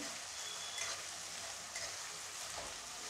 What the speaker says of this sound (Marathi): आणि हे छान लाल रंग येईपर्यंत परतून घ्यायचं आहे।